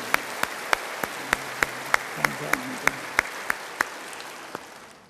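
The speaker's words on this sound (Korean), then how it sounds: "우리 다 같이 한번 뜨거운 박수로 더 환영하십시오" Church congregation applauding at a service: a steady broadband wash of clapping with sharp, evenly spaced louder claps cutting through, moderately loud, while a voice speaks over it.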